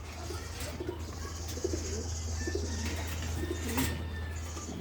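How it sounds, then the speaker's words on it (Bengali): Pigeons in a loft coo in low, repeated murmurs over a steady background hum, with a few light flutters and chirps mixed in. "জিরা লাইনের কবুতর"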